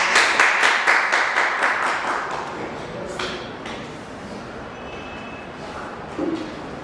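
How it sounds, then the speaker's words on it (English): Applause from an audience at a talk event, a burst of clapping that is loudest at the start and then thins out and fades under a quieter room. "Can you please give her a round of applause?"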